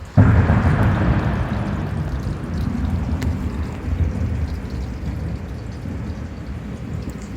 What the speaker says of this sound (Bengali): কেমন বিদ্যুৎ চমকাচ্ছে